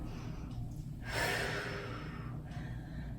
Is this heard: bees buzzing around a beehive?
no